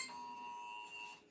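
A phone sounds an emergency alert: a steady, faint electronic tone held for just over a second, with no talking over it.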